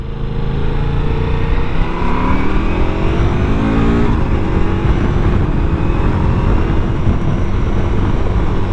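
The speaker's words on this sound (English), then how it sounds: "This thing, these Ducati engines pull," A Ducati Multistrada V4 Rally motorcycle's V4 engine pulls hard under acceleration, a loud, steady roar with rising harmonics and heavy wind rush sustained throughout.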